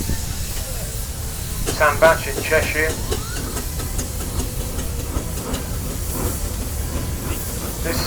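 A Foden steam wagon engine hisses steadily in the background while someone speaks over it, with a few brief louder bursts near the start.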